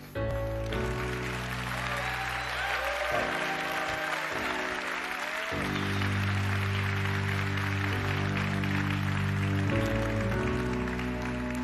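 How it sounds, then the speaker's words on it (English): Audience applause fills a large hall at the close of a Xiaomi launch event, a steady sustained wash of clapping with music playing underneath throughout. "please give one more round of applause to the amazing team back there and back in HQ"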